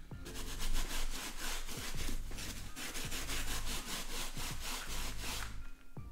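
Jordan 1 sneaker sole scrubbed with Jason Markk cleaning foam: loud, steady back-and-forth brushing strokes in a fast rhythm, close and continuous with no talk.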